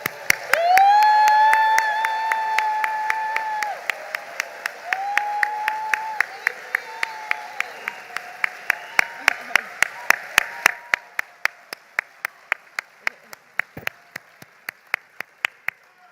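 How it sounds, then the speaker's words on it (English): Audience at a sports hall of fame induction ceremony, with sharp, sparse rhythmic claps building into a steady beat, while a sustained hum or vocal tone sounds early on before fading. "help me through your applause, show her how much I love her and how proud of her that I am."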